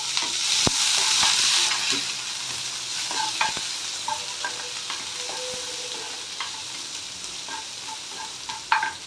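Onions and urad dal tempering for sambar sautéing in hot oil, a steady sizzle with scattered spoon scrapes and taps against the pan, a louder hiss early on, then settling, with one sharp clatter near the end.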